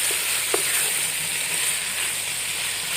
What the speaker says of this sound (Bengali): আর এটা হচ্ছে গোশ রান্না করতেছি গ্যাসে। তো মোটামুটি সব কিছুই দিয়েছি, মশলা, আদা রসুন।